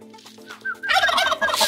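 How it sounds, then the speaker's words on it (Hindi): Close-up calls of white Aseel chickens in the morning in Gilgit-Baltistan, a few soft clucks building into a loud, rapid burst of gobbling and squawking. "ये देखिए मेरी मुर्गियों को"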